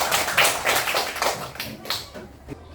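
Children in a classroom clapping their hands as applause, a quick uneven burst of sharp claps that fades within a few seconds.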